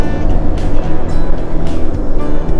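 Steady highway traffic rolls past a campground at Ratcliff Lake in Davy Crockett National Forest, a loud continuous roar with swelling whooshes as individual vehicles pass.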